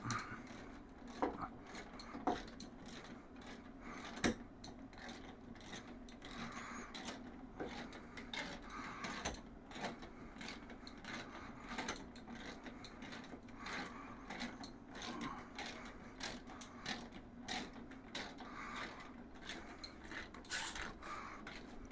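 Ratchet tightening on the front fork of a Lifan KPT 400 motorcycle, a steady run of small repeated mechanical clicks held at a low, even level throughout with no talk over it.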